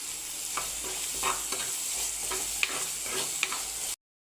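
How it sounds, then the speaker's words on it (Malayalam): Curry leaves sizzle in hot oil for a dried prawn curry, a continuous bright hiss with soft stirring scrapes and a couple of sharp spatters, close up, ending abruptly in silence. "ഇനി ഇതിലേക്ക് ഇപ്പോൾ കറിവേപ്പില ഇടേണ്ട സമയമായി."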